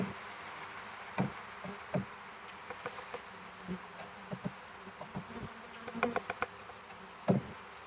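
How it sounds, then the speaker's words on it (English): Honey bees hum in a steady, low drone while a package is shaken into a hive, with scattered knocks and bumps from handling the box. "And then I'm gonna take my bees."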